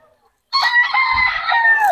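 A rooster from a game-fowl stock crows once, loud and close, a single long strained call lasting about a second and a half after a brief silence.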